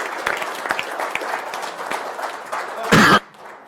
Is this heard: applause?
yes